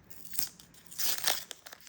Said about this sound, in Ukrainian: Ось у нас вже такий зелений пакетик. Зараз ми його будемо відкривати.